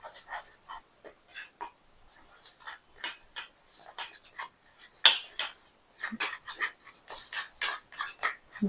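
A spoon stirs curry leaf hair dye with mustard oil in a bowl, giving quiet, uneven clinking and scraping strokes in short bursts with pauses between them.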